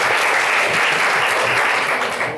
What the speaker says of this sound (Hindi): पहले तो उनके लिए तालियां बजाओ।